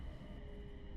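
Low, steady rumble of a train rolling along a mostly single-track railway near Yamagata, Japan, a continuous close drone with a faint higher tone, very brief and unbroken.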